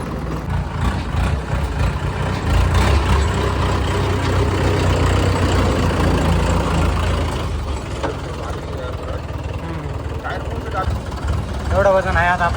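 A tractor with water-filled tyres idles on a weighbridge, a loud, steady diesel rumble running throughout, with someone talking over it.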